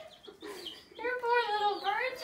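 Chickens in a Tractor Supply store cluck and call in short, clear bursts, fairly close and moderately loud, with a few faint higher peeps at the start.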